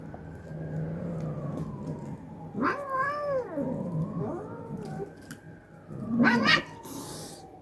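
Street cats meow and caterwaul while waiting for liver outdoors, with a couple of long rising-falling yowls and a sharp loud cry near the end over a low background hum.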